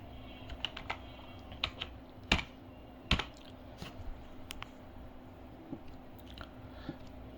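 Close, quiet typing on a computer keyboard while a first name is entered: irregular keystroke clicks with a few sharper taps and short gaps between them.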